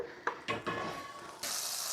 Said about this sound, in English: to the pan for the green portion, we're going to add a stick of butter